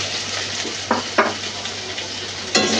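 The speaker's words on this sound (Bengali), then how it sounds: "এগুলো একটু হালকা হালকা ভেজে নেব।" Sliced onion and capsicum fry in hot oil in a pan for chilli chicken, giving a steady close sizzle broken by a few sharp scraping stirs of a spatula.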